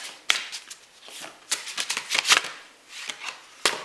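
Tarot cards riffle and shuffle in quick, crisp bursts of papery slaps and flutters, close and clear, with a few sharper snaps between the runs and no talking.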